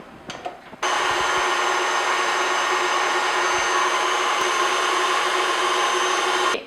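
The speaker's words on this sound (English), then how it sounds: "I need to whisk my egg yolks with the rest of sugar, and also I'm going to add vanilla to the egg yolks." Egg yolks are whisked with sugar and vanilla for a mango yogurt mousse cake. A steady, loud motorized whir starts abruptly after a brief pause and runs evenly for about six seconds, with no talk.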